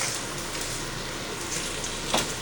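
Eggs frying over easy in a hard-anodized nonstick pan, a steady even sizzle throughout with a faint scrape partway through, no voices.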